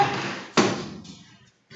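A sliding door at the side of a house is forced open with a loud, sharp bang, followed by a short stretch of rattling and scraping before it goes quiet.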